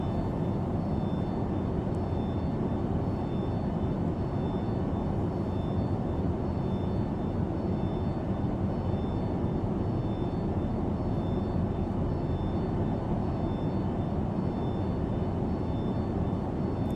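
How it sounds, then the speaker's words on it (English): A hydraulic pump runs inside the Boeing 727 cabin of the FSS 727 flight simulator game, heard as a steady, loud, broadband mechanical hum and rush that continues unchanged throughout with no talking. "Do you hear that hydraulic pump?"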